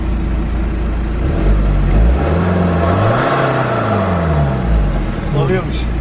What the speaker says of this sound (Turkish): Ara gaz ver bakayım.